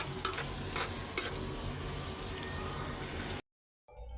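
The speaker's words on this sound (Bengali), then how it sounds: "কালো জিরার ভর্তার জন্য পেঁয়াজ আর রসুনটা ভাইজা নিতেছি" Onion and garlic frying in plenty of oil for a black cumin mash, a steady close broadband sizzle with a few stirring scrapes, cutting out briefly near the end before resuming.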